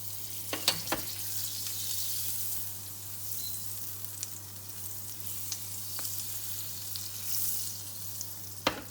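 A pancake made from keto pancake mix fries in butter in a pan, giving a soft, steady sizzle with a few faint clicks and scrapes near the start and end, no talk.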